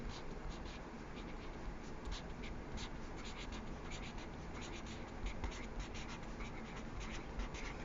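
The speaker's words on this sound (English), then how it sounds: "let's write our name at the top before we get started" A pencil scratches steadily across a worksheet as a name is written, in fast, close strokes over a constant background hiss.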